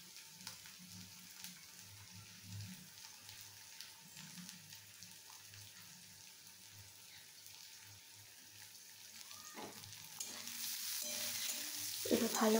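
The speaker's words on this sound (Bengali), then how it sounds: "এবার ভালো করে কিন্তু এটাকে ভেজে নিতে হবে।" Chopped carrots frying in hot oil in a wok, stirred as they cook, give a steady low sizzle with stirring scrapes; the sizzle rises and grows brighter and louder near the end.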